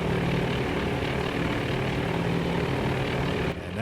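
Propeller aircraft engines in the carrier-battle video game Task Force Admiral, set near Midway: a loud, continuous droning roar that drops away abruptly at the end, with no talking.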